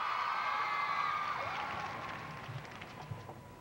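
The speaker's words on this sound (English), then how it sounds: "Listen to the crowd." Crowd at a 1998 gymnastics World Cup roars and cheers loudly, with a whistle-like tone at the start, then the noise gradually fades into a softer murmur with scattered shouts.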